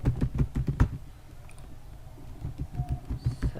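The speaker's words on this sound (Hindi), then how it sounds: "मेरे जो कीबोर्ड का जो थोड़ा सा शोर आप लोगों को सुनाई दे रहा है" Computer keyboard clicking while someone works in a text editor, a quick run of keystrokes at first, a short lull, then more scattered taps, close and fairly soft.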